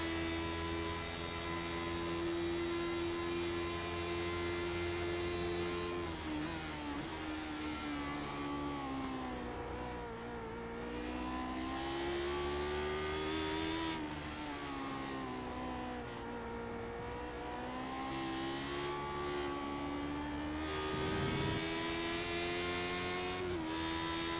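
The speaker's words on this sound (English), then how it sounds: "it's pretty fun to listen to him just kind of feather the throttle through there to try to not break the rear wheels loose" Race car at Lime Rock Park lapping through turns with the throttle feathered, a continuous loud engine drone with rising and falling harmonics as revs ease and build, no voices.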